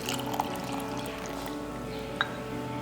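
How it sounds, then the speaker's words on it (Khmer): Fish sauce poured into a mortar already holding crushed garlic, chili and sugar gives a steady liquid trickle with a faint splash, close and continuous, plus a couple of brief clinks and no voices. "ចាទឹកត្រីដាក់កន្លះចានចុះ"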